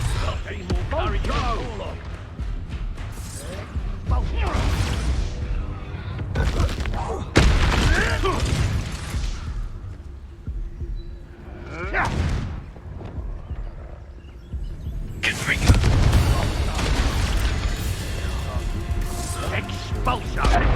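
Expulso spells in a wizarding video game set off repeated heavy booming explosions that rumble and crash in waves, with a voice speaking between and over the blasts.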